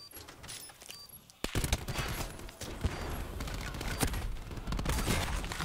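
Gunfire in a Call of Duty match at a CWL Pro League 2019 esports event, rapid bursts of automatic shots after a brief quiet start, dense and continuous with faint voices underneath.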